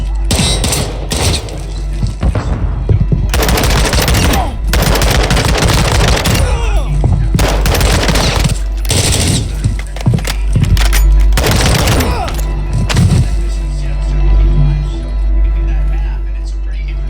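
Rapid video game shooter gunfire in loud bursts and sustained automatic volleys, crackling across much of the span with brief gaps, while a player talks over the shooting.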